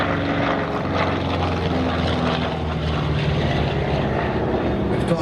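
A P-47G Thunderbolt named Snafu, a Pratt-engined World War II propeller fighter, makes a low-level pass over Santa Maria's Central Coast airfield in California, its loud, rough piston roar steady and close throughout, with a voice faintly underneath.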